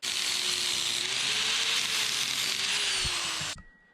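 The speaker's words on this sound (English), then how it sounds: "I gotta grind that down real quick." A shock bracket being ground down during a Dana 60 one-ton axle swap on a Jeep JK: a loud, steady, harsh grinding whine that holds for about three and a half seconds, then cuts off abruptly.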